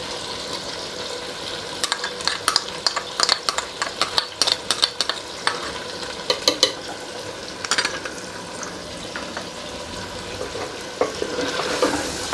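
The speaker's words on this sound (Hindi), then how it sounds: "पाँच मिनट हो गए हैं मुझे चिकन को फ्राई करते हुए" Chicken stir-fries with ginger and garlic paste in a pan, a steady close sizzle broken by repeated sharp spatula scrapes and clacks against the metal, with no voices.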